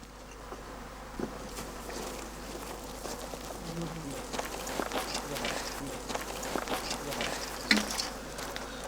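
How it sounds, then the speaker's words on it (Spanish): Angry honeybees buzz around traditional cane hives during a honey and wax harvest, a dense, continuous swarm drone that builds over the clip, with handling noises and movement mixed in. "las abejas se ponen cada vez más furiosas, impidiendo a los colmeneros seguir trabajando"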